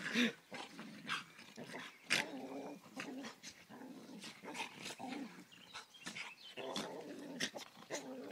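An agitated dog growls and whimpers through most of the stretch in a garden, its uneven snarls rising and falling at close range with brief sharper yips mixed in, and no talk over it.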